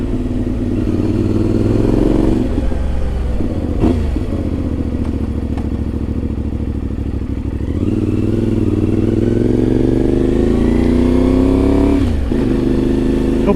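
A modified Ibex 450 motorcycle engine runs steadily while riding on a commute, loud and close, its pitch rising and falling with a few quick throttle blips and shifts.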